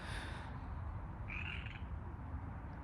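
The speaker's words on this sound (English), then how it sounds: "There was a big frog. Did you hear it?" A big frog croaking outdoors, a short faint call rising briefly over a constant low hiss of background noise.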